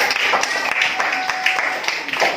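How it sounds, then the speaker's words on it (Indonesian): Pupils in a classroom clap together for a top-performing group, a dense, steady patter of many small hands close by that holds through the whole stretch, with a few louder individual claps poking out. "Ya, kasih tepuk tangan."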